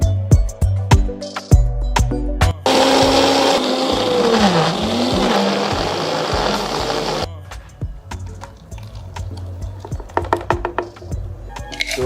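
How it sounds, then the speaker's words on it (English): A dry blender whirs loudly for several seconds, blending fruits and vegetables for a Ghanaian sorrel drink, its motor pitch rising and dipping. Sharp clicks and knocks come before it starts and again after it stops. "So we are blending everything together in a dry blender"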